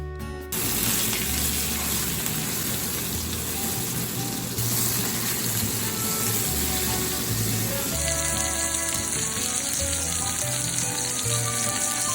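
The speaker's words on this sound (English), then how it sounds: "Feel free to add more oil as you sear the second batch of your pork chops." Pork chops sear in hot oil in a pan with a steady, loud, dense sizzle and crackle that continues unbroken throughout, with no talking.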